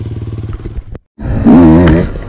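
A Beta 200 Racing 2023 dirt bike engine sputters, cuts out briefly, then catches and revs loudly with a rising, warbling two-stroke tone, close to the microphone.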